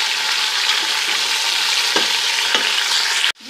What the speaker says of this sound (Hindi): तो गोश्त को हम 2 से 3 मिनट भून लेंगे